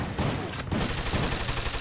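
Rapid pistol gunfire in the video game Free Fire, a dense run of loud shots across the whole stretch with no pauses and no talk.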